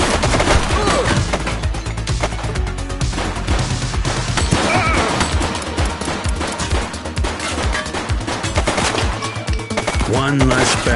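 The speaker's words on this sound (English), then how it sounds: "She's shooting!" A suspect fires a gun in The Precinct police game, rapid loud shots crackling amid continuous crashing action and clattering impacts, with bursts packed closely together throughout.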